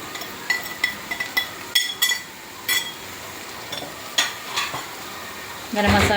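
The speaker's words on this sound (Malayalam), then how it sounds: "ഇട്ട് നമുക്ക് നന്നായിട്ട് ഇളക്കി യോജിപ്പിക്കാം" Pepper and garam masala get stirred into a frying vegetable curry, with repeated sharp spoon clinks and scrapes against the pan over a soft sizzle, ending in a louder burst of frying.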